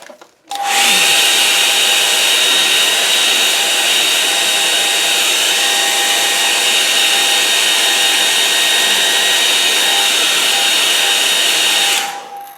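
A hair dryer drying wet-in-wet watercolour paint switches on and blows loudly and steadily for about eleven seconds, an up-close whining roar, then cuts off.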